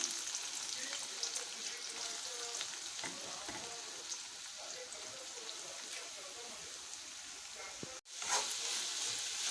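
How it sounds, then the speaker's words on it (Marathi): Onion frying in oil in a wok, a steady crackling sizzle running throughout with scattered pops and a brief dropout near the end, fairly close and moderately quiet. "कांदा व्यवस्थित लालसर होईपर्यंत तांबूस होईपर्यंत भाजून घ्यायचा"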